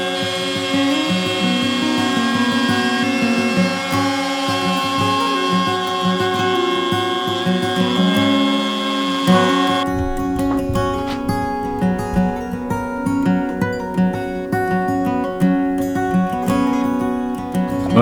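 A router cuts a juice groove into an end grain wooden cutting board, a loud, steady high-pitched whine that turns rougher and more ragged partway through as the bit bites into the wood.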